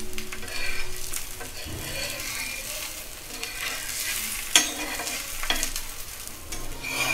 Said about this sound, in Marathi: हा आता खरपूस असं भाजून घेऊया.